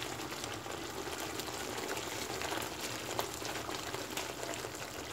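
A pot of green beans, pasta and carrots boiling on the stove, a steady, dense bubbling hiss that stays even and close throughout, with no voices.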